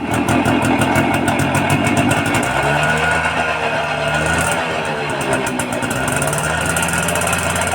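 A Suzuki engine, started with a single kick and repaired for spraying pesticide, idles steadily and loudly with a fast, even chugging throughout, close by and alone.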